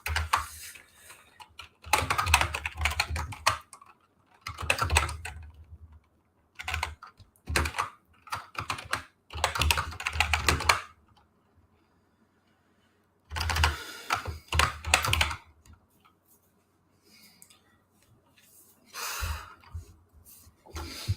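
Bursts of fast typing on a computer keyboard, close and crisp, in uneven runs separated by short pauses and one longer silence, with no talking over it.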